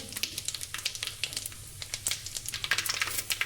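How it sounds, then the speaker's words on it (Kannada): Cumin and mustard seeds crackling in hot oil for a radish sambar tempering, a quiet stream of sharp, irregular pops and ticks close by. "ಎಣ್ಣೆ ಕಾದಿದೆ ಜೀರಿಗೆ ಸಾಸಿವೆ ಹಾಕ್ತೀವಿ ಚಟಪಟ ಅಂತ ಸಿರಿಗೆ ಸೌಂಡ್ ಕೇಳುತ್ತೆ ನಿಮಗೆ"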